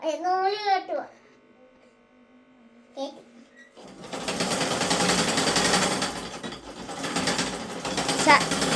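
A household sewing machine stitching fabric runs with a steady, dense mechanical whir for several seconds, preceded by a short stretch of a person speaking and a quiet pause.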